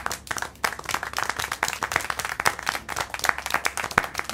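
Clapping heard in the Syberia The World Before game, a rapid run of distinct, close hand claps with uneven rhythm over roughly four seconds.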